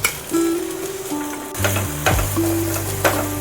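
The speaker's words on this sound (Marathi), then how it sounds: "त्यामध्येच आता आपण कांदाही तळून घ्यायचा आहे" Onion frying in leftover oil in a pan while preparing Misal Pav, giving a steady close sizzle, with a few utensil scrapes and stirring sounds mixed in, alone without speech.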